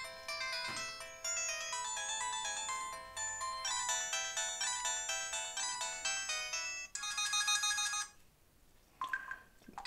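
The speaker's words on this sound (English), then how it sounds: "Ringtone." An LG Chocolate KG800 phone plays its ringtone, a bright electronic melody of rapid repeated notes that shifts to a sustained chord and stops, followed by faint brief tones, with no talk.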